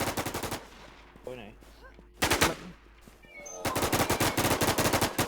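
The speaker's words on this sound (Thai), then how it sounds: "แล้วใครยิง เสียงใครยิง" Bursts of rapid gunfire in the video game Infestation: The NewZ (WarZ) crackle loudly, with single shots and a longer sustained burst at the end. There are faint voices and game sounds between the bursts.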